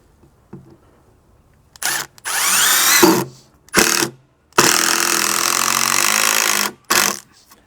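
A power drill drives screws into a wooden deck beam in a series of whirring bursts: several short pulses, then one sustained run of about two seconds, then a final brief burst, with quiet pauses between.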